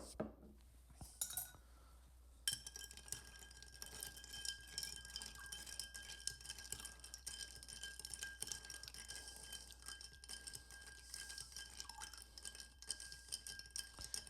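A martini being stirred in a glass with Fee Brothers orange bitters: a steady run of light metallic clinks and scraping as a spoon circles against glass, close and continuous, with no talking.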